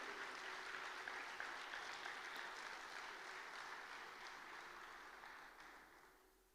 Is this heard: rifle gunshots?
no